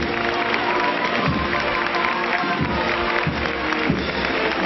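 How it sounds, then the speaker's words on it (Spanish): A large outdoor crowd breaks into applause as the float carrying the Virgin of María Santísima de los Desamparados arrives at an Andalusian religious procession. Dense, loud, sustained clapping mixes with crowd noise and voices. "Rompen los aplausos para recibir ya a María Santísima de los Desamparados"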